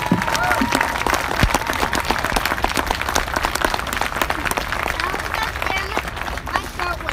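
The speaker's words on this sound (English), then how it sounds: "A round of applause" A large crowd at a stadium turkey derby applauds loudly and continuously, dense clapping filling the space with scattered cheers and voices mixed in.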